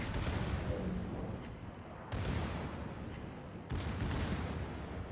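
Broadside salvos from the battleship Massachusetts in the naval game World of Warships: three heavy booming volleys a couple of seconds apart, each a sudden loud blast rolling into a long rumbling decay over constant battle noise.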